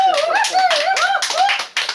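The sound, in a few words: audience clapping at a poetry lecture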